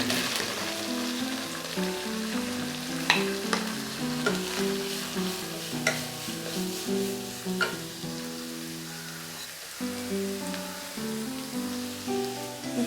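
Finely chopped shallots, about half a kilo, frying with curry leaves for duck mappas, giving a continuous close sizzle with scattered pops and crackles as the pan is stirred.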